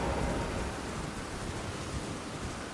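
Rain pours in the Elden Ring video game, a dense, even hiss that runs steadily throughout at a low, distant level with no other sounds on top.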